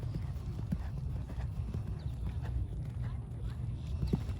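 Horse hooves clopping on an arena surface during a riding lesson, a soft steady rhythm of footfalls under a continuous low rumble of background noise.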